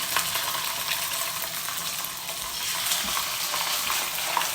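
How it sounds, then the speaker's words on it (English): Loud, steady sizzling and crackling of branzino fish frying skin side down in hot oil in a pan, close up, with no voices. "now I'm going to put the fish in, skin side down first. You hear that?"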